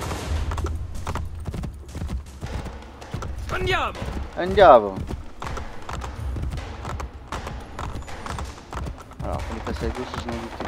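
Horse hooves clip-clop in Assassin's Creed Brotherhood, a quick, rhythmic trot under game effects and sound, while someone talks excitedly over it.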